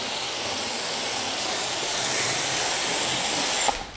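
Wash product sprays in a continuous hissing stream over a Jeep Trackhawk in winter, steady and close, ending with a brief clunk.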